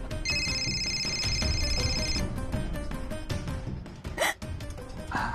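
A telephone rings with a steady electronic ringtone for about two seconds inside a Marathi TV serial scene. It plays over a low background bed, and a brief rustle follows.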